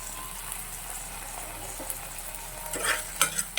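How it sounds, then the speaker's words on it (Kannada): Egg frying in a pan with chilli and tomato: a steady soft sizzle throughout, with a few louder clinks and scrapes of stirring near the end. "ಈಗ ಎಲ್ಲನೂ ಫ್ರೈ ಮಾಡ್ತಾ ಇದ್ದೀನಿ."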